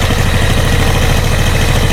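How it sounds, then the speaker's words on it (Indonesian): A Yamaha Jupiter motorcycle engine, which has a faulty starter, idles steadily and loudly up close just after starting, with an even, rapid putter and slight vibration and no talk. "Nah, langsung hidup, sekali greng langsung hidup. Mesin halus ya, halus."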